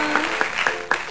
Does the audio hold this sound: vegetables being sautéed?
no